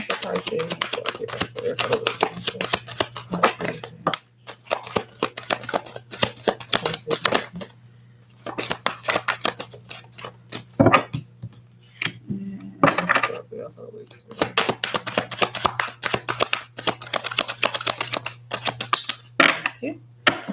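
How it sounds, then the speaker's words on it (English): Tarot cards being shuffled by hand in quick repeated bursts of crisp riffling and slapping, with short pauses between rounds and a person talking over and between the shuffles. "Let's get some more shuffles in because the card just flew out at me."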